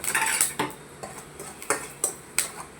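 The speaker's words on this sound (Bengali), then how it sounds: "লঙ্কাটাকে নেড়ে নিলাম" Chilies being stirred in a scorched, blackened home kadai, with spoon or spatula scrapes and clinks against the metal recurring roughly every half second, close and fairly loud with a faint sizzle underneath.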